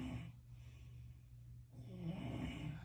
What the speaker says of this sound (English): It sounds like 3 different levels of snoring.